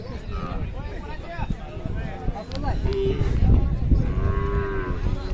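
At a Khillar cattle market, a cow moos with low drawn-out calls amid loud crowd chatter, people talking nearby and general livestock bustle.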